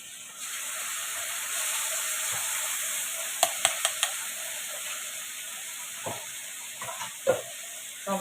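Tomato, garlic and ginger paste fry in a pan with a continuous bright sizzle, punctuated by several quick clicks and scrapes of a spatula stirring, close and fairly quiet.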